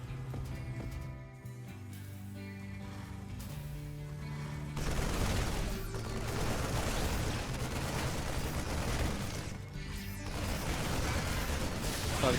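StarCraft II battle between marines, siege tanks, zerglings and banelings: layered bursts of gunfire and heavy explosions rumble continuously over faint game music, rising into a dense barrage of blasts.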